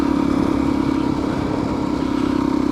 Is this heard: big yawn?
no